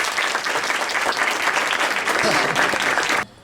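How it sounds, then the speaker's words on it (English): A full audience gives a thunderous round of applause to welcome an MP as keynote speaker, dense and loud clapping sustained for about three seconds before cutting off abruptly. "Let us welcome our first keynote speaker for the day, the elected MP of my constituency actually, Ms. Bansuri Suraj, with a thunderous round of applause."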